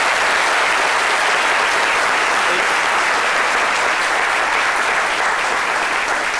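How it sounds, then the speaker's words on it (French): An audience bursts into dense, steady applause, loud and unbroken for several seconds with no voices over it. "Ça mérite vraiment un tonnerre d'applaudissements"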